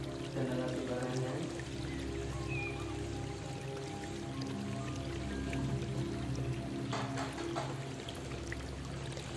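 AB Mix nutrient solution pours in a soft, steady trickle, faint and continuous, with light drips against a quiet background.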